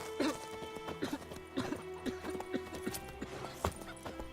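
Horse hooves clip-clop on hard ground in The Witcher 3 video game, an uneven series of close, fairly faint hoofbeats with a few sharper strikes against a quiet backdrop.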